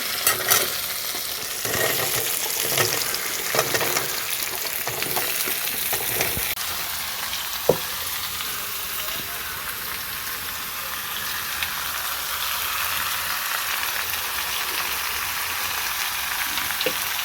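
Vegetables with chopped onion and green chili fry in a pan, a continuous close sizzle with scattered stirring scrapes and clicks, slightly louder at first and then settling into an even hiss, no talking.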